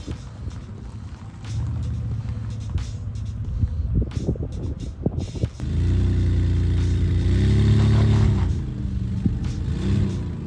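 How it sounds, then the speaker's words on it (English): An off-road vehicle climbs up onto a raised base on rough terrain, its engine droning steadily and swelling into a louder, sustained rev midway through with some clattering, close by and without talk. "Drive up on that base and maybe go somewhere over there"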